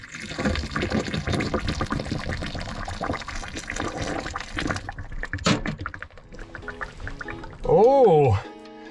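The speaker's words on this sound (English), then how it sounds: "Oh, I think the pipe's defrosted." Water gurgles and rushes continuously through a just-thawed frozen pipe in a van in winter, with voices talking over it, then a short, louder warbling gurgle near the end.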